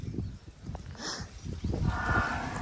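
A buffalo in a village setting gives a faint, low, drawn-out moo against a noisy outdoor background.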